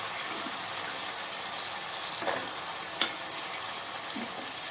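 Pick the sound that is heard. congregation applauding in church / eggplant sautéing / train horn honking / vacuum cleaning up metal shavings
eggplant sautéing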